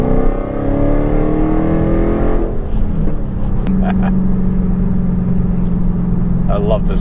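A wide-body Dodge Hellcat's engine hums and rises in pitch as the car pulls away and cruises, close and loud, with someone talking over it.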